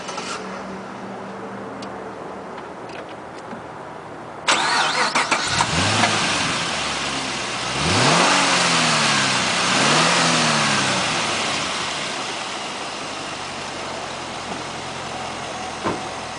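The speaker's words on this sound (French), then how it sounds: "Je vais maintenant vous le faire démarrer." A 2011 Chevrolet Camaro V8 engine cranks and catches at once, followed by a few deep revs that rise and fall before settling into a loud, rumbling idle.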